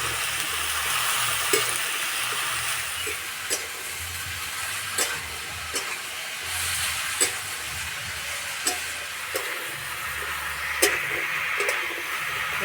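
Greens frying in a pan with turmeric and slit green chilli, a continuous soft sizzle under repeated light scraping taps from stirring, close and steady with no talking.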